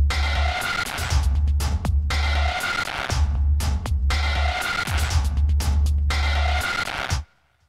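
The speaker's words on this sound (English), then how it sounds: "as well as a percussive loop, which sounds like this." A percussive loop from the Sample Logic Cinemorphx library for Kontakt repeats four times, each pass a throbbing low pulse under bright scraping hits. It plays loud and alone, then cuts off abruptly.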